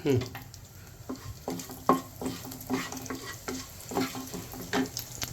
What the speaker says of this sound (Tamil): எண்ணெய் விட்டு காஞ்ச உடனே கொஞ்சம் சீரகம், ஒரு 1/2 ஸ்பூன் சீரகம் போட்டுக்கோங்க.